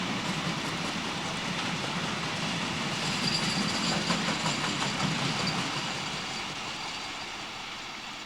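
Freight train of empty cement tank wagons passing on a line toward Earl's Sidings, heard from a distance as a steady rumbling roar with faint wheel clatter that swells slightly and then eases away.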